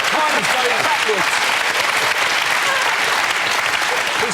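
A studio audience at a panel game show gives steady, fairly loud applause, with a voice briefly audible beneath it.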